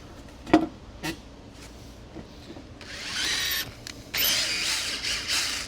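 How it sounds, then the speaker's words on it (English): A sharp knock, then a power drill whirs into scrap wood pre-drilling a hole in two bursts, the second louder and longer, with a brief pause between them. "Let's get us a pre-drill right here."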